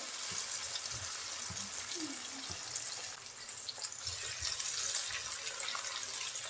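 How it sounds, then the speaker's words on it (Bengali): Onion and garlic fry in a pan, making a faint, steady sizzle with occasional light clinks and stirring sounds. "পেঁয়াজ রসুন হালকা একটু ভেজে নেব"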